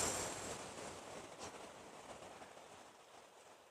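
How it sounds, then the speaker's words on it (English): Moderate ocean surf on a beautiful day, a steady broad wash of breaking waves and rushing water with some wind, continuous and fairly near, no voices. "Not too big waves."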